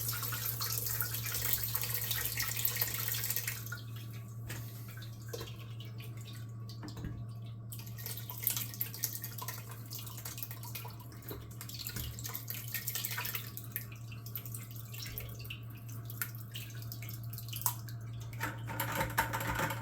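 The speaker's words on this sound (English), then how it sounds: "just want to let that soak through and drain out as much of the juice" Blackberry juice drains from about 1.5 kilos of soaked berries through a muslin cloth, giving faint, irregular drips and trickles over a low steady hum, quiet and close.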